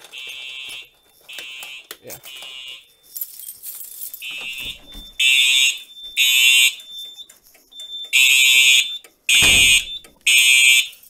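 Simplex 4010 fire alarm panel under test sets off loud piercing alarm tones in repeated timed bursts, interrupted by clicks and handling noises between blasts and a short burst of speech.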